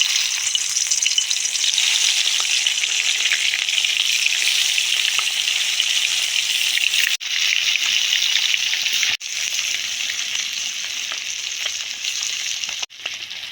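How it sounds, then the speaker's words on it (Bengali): Spice-coated koi fish frying in hot oil in a wok, village-style cooking: a loud, steady, close sizzle runs the whole time, broken by a few brief dips, with no talking. "সব মশলা মাহায় রাখলাম, এবারে কড়াইতে সাজায় সাজায় দিয়ে দেবো।"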